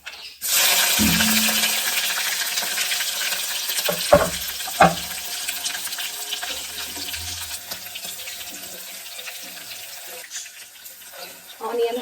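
Mustard seeds, cumin and green chillies sizzle and crackle in oil in a nonstick pan, a steady loud frying hiss with a few sharp pops and spits near the start.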